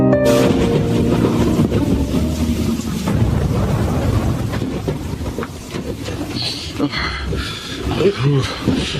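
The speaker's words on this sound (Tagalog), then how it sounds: "Ruben, Kuya Nanding, bakit sinugod mong malakas na ulan?" Heavy rain pours during a TV drama scene, a dense, loud roar with deep rolling thunder rumbling underneath throughout.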